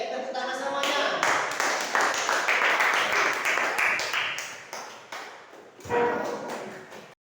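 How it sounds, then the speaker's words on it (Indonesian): A group claps hands together on request from a host, a burst of fairly close, uneven clapping with some sharp individual slaps, fading briefly before a louder final flurry, with voices partly mixed in. "Oke, tepuk tangan semuanya"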